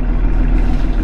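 A marine diesel yacht engine ticks over at a steady idle just after starting, a loud, close, even low rumble with a constant chug and no voices.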